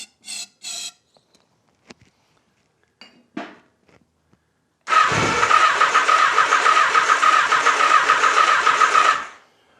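Honda Nighthawk motorcycle engine firing up after sitting for four years, a few faint clicks and taps before a loud start and a steady, rough idle that runs for several seconds and then cuts off.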